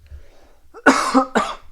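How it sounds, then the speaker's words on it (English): Two sharp, close coughs in quick succession after a quiet moment, the first longer and harsher than the second. "It's a cough."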